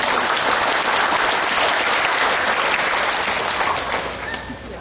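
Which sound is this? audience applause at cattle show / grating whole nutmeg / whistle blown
audience applause at cattle show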